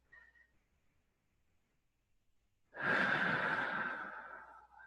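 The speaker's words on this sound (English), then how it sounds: "just to breathe, to take a nice, comfortable breath" A person takes one slow, comfortable breath, a soft airy inhale swelling at close range and easing out over about two seconds, heard alone in a quiet room during a morning meditation.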